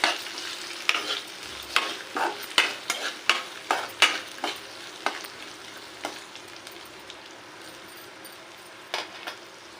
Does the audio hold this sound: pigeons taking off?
no